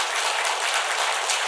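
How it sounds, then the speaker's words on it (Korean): A church congregation claps together to encourage someone before a sermon, producing a dense, even burst of applause filling the room. "우리 박수로 격려 한번 하고 시작하도록 하겠습니다"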